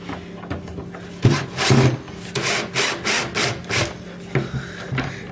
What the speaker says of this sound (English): So here I'll be showing you screwing them in.